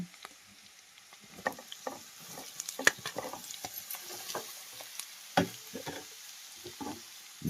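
Carrots and mixed vegetables frying in oil with a steady soft sizzle, broken by scattered stirring clinks and scrapes of a utensil in the pan, close and fairly quiet.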